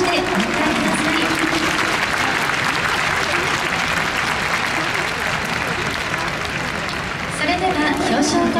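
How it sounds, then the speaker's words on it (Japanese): Dense crowd applause greets baseball pitcher Imanaga at his monthly MVP award ceremony, sustained clapping with a voice speaking over it near the start and end. "皆様大きな拍手でお迎えください"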